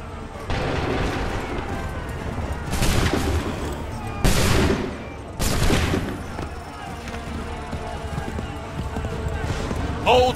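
Musket volleys fired by soldiers in Assassin's Creed III, several loud ragged bursts of gunfire with hoofbeats clopping through, and voices shouting orders.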